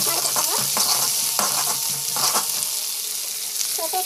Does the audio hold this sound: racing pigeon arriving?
no